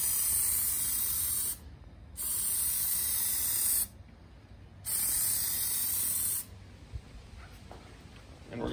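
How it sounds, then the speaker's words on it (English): Three long bursts of aerosol spray hiss as Plasti Dip is sprayed onto a car emblem, each about two seconds, separated by brief pauses, close and steady. "So we're gonna go ahead and spray it."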